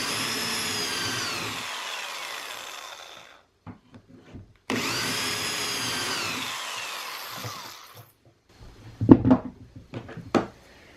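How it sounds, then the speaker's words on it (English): A power drill bores two steep angled holes into wood for a toddler house bed frame, two whining bursts with falling pitch, each followed by light knocks and clatter, close up. "I'm going to take this drill bit and put 2 holes in here."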